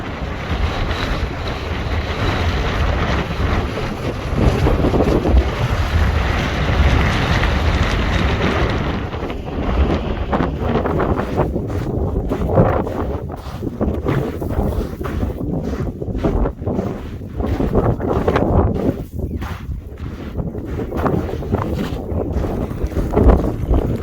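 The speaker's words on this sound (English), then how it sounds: "probably a 45 odd mile an hour wind" Strong wind of around 45 mph roars continuously across the microphone on a loose volcanic hiking trail on La Palma, loud and buffeting with gusting surges throughout, with no voices.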